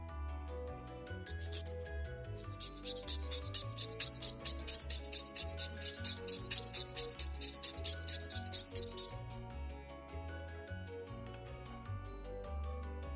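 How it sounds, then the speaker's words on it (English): A miniature cabinet piece being sanded at an angle to form a bevel, heard as a quick, rhythmic scratching of close back-and-forth strokes lasting several seconds over a low background hum, then stopping. "I'm just sanding it at an angle to create a bevel"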